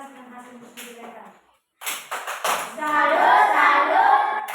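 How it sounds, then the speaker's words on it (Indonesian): In a classroom, a group claps a short rhythmic salute for presenting group 3: a few sharp claps after a pause, followed by voices chanting together. "kita tepuk salut untuk kelompok 3 yang sudah presentasi dan hasil diskusi mereka"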